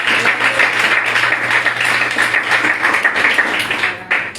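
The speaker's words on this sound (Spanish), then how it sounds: "Démosle un aplauso al Señor." Church congregation applauding the Lord together, a dense, steady wash of many hands clapping that runs without pause for the whole stretch, loud and close, with a low organ-like hum held underneath.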